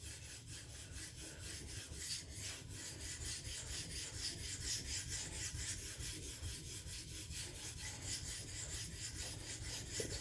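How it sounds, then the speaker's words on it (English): A D2 steel knife ground back and forth on sharpening plates, a steady rasping scrape repeating in quick, even strokes throughout, close and continuous with no voices. "either the plates are slow these days or the D2 is actually hard to grind"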